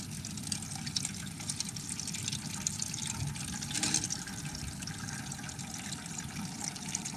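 Simulated rain water poured onto soil samples from a lawn and a forested site, a steady continuous splashing and trickling wash that stays even throughout, close and moderately loud with no talking.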